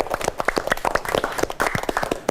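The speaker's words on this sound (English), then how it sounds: "Give applause." Students in a classroom lesson give a burst of applause, many quick overlapping claps filling the short moment, fairly loud and close with no talk over it.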